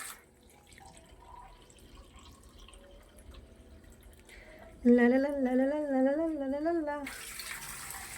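Water poured into a cooking pot for ragi mudde, a steady stream for about two seconds whose ringing tone rises as the vessel fills, after a quiet stretch of low room noise.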